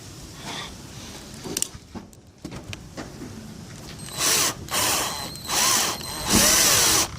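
A handheld power drill bores holes in a Vauxhall Opel Meriva B bumper for parking sensors, with several loud whirring bursts after some quieter handling clatter, close by, without talk.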